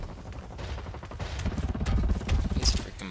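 Gunfire in the shooter video game BlackLight: Retribution, with dense, rapid bursts of shots rattling over a busy game soundscape.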